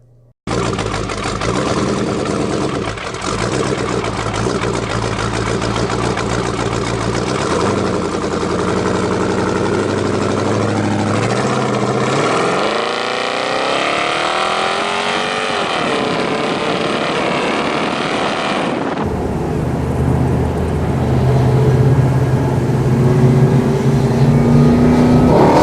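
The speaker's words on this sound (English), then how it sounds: "The engine sure looks nice, but what does it sound like?" A classic American car with an LT1 V8 engine runs loud and close: a steady idle rumble, a rising then falling rev, and a deeper, harder-edged idle near the end, with no talk.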